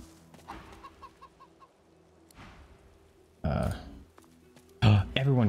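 A ghostly chicken in the fantasy game Divinity: Original Sin 2 gives a short run of soft, evenly spaced clucks, followed by louder bursts of game sound and a voice talking.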